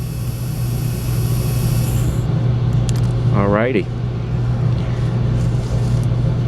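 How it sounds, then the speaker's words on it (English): A custom-built RC track-cleaning car's electric motor runs at a steady, loud whir throughout, with a brief spoken word over it midway. "Looks like we have a nice running motor for this car"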